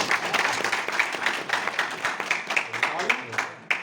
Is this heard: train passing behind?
no